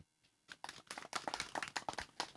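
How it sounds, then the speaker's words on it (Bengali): A group of farmers claps together, a ragged outdoor round of applause that starts sparse and builds into dense, uneven hand claps, fairly close and not very loud. "আপনারা সবাই জুড়ে একটা হাততালি দেন"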